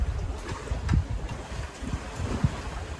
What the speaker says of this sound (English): we're sailing at 5 knots upwind towards the Mackie Shoal